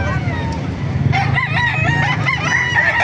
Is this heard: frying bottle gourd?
no